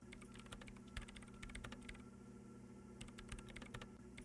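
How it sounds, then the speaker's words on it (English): Computer keyboard keys pressed during Disco Elysium play, a quiet run of crisp clicks in irregular bursts over a steady low hum. "Nothing happens as Sona Lokanen-Kilda presses unmute on her keyboard"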